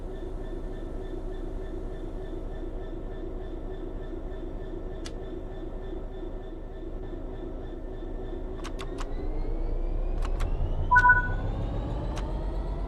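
Simulated train in Train Sim World 4 sitting idle with a low steady hum, then rumble swelling as it begins to move after brake release, with a few sharp clicks and a brief two-tone beep near the end.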